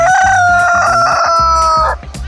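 An indoor rooster crows loudly and close in a living room, one long sustained cock-a-doodle-doo that ends abruptly, with no talk over it.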